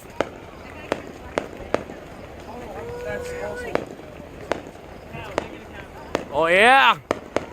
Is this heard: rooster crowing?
no